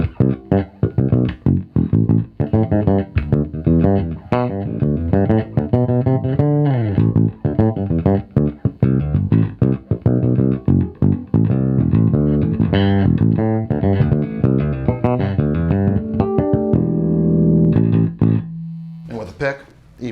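A Fender American Original '70s Jazz Bass played on its J pickup, a run of plucked notes in a busy, loud, close line through amplification, ending with a sustained tone.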